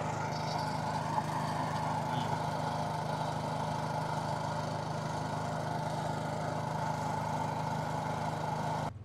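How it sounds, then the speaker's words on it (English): Air compressor in a tire repair shop running continuously as it builds pressure, a steady motor drone with a constant low hum that holds at an even level until it cuts off abruptly at the end. "While the compressor's building up in the morning."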